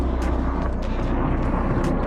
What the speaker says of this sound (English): Helicopter, watch out.